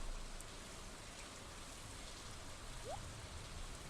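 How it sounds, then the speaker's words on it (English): Steady rain falling over a lake in Stardew Valley, a soft, even hiss of drops that stays constant and faint throughout. "Watching the currents of rain whisper above a silent lake."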